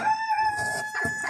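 A fancy-breed rooster crows once, loud and close, a short sustained call with a rough break near the end.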